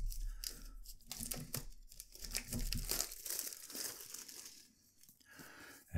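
Plastic wrapper being peeled and crinkled off a pack of Fabriano notepads, close and fairly quiet, with irregular crackles and tearing rustles and no talking.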